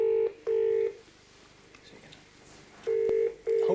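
Telephone keypad tones sound on a speakerphone as a number is dialed: four sharp, loud beeps in two pairs separated by a quiet gap, close and clear.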